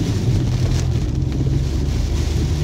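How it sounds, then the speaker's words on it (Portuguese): Heavy rain pours over Maceió as a steady, dense roar with a deep rumble underneath, loud and continuous without pause or voices. "É, agora a chuva pegou."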